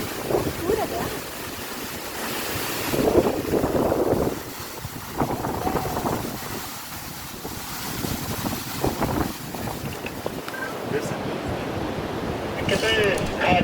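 Rushing water from a waterfall roars steadily and loudly throughout, with wind buffeting the microphone and voices talking over it, at Serra Azul waterfall in Nobres, Mato Grosso.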